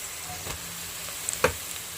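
Carrots sizzle softly in a hot pan, a faint continuous frying hiss punctuated by a couple of light clinks or stirs, with no one talking.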